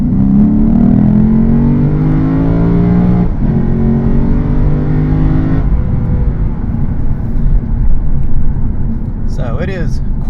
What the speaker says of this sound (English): so we can hear what the shifts sound like and see what this engine sounds like.